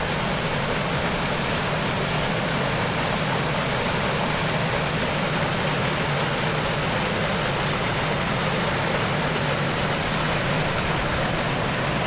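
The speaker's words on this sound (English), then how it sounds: "But this little cascade above the two waterfalls I'm able to get to." A small creek cascade on Little Nerang Creek above Purlingbrook Falls gives a constant, close, full rushing of water that stays unchanged throughout, with no voices.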